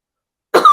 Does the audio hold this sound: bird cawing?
no